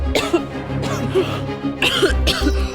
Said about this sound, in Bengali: আবার কাশিটা শুরু হলো।